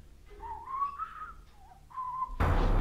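A soft, wavering whistled tune rises and falls in two short phrases, faint and alone, before a sudden burst of rushing noise cuts in.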